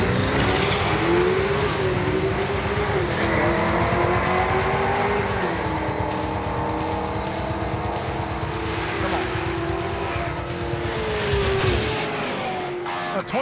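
A 1980 Chevy El Camino drag racing down the strip, its engine roaring loud and close for the whole run, with rising and falling revs and shifts before the sound thins out near the end.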